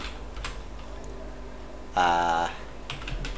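Keys on a computer keyboard clatter in a dense, fast burst of typing lasting about half a second, with a few lighter taps before and after against a quiet room.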